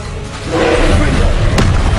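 A Confringo explosive spell blast in the Hogwarts Legacy video game swells into a loud, booming roar, with a sharp crack partway through.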